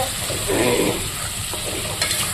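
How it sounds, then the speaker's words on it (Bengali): Meat being stirred as it fries in a pot, with a steady sizzle and a brief scraping stir in the middle, plus a couple of faint utensil clinks near the end. "মাংসটাকে নাড়াচাড়া করে তারপরে ঢেকে দেব"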